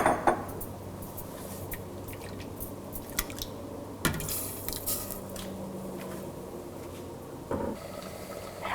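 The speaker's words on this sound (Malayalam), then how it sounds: "ബ്ലെൻഡറിൻ്റെ ജാറിലോട്ട് കുറച്ചുകൂടി വെള്ളം ഒഴിച്ച് കഴുകി കറിയിലോട്ട് ആഡ് ചെയ്യാം" Water sloshing and swirling in a blender jar as it is rinsed and poured into simmering drumstick-leaf dal curry, with soft clinks and drips of kitchenware, close and moderately quiet, no talking.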